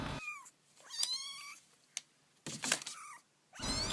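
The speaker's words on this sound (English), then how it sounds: "A little kitty destined for Hollywood." A small kitten meows several times in short, rising and falling cries with gaps of quiet between them. The calls are clear and close, with no other sound around them.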